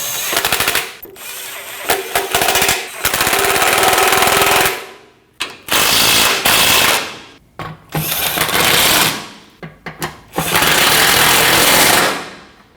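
A power tool tightening the oil pan cover bolts on a 2012-2021 Nissan NV2500 5.6L V8, loud rattling bursts of several seconds each, broken by short pauses, close and with no talking.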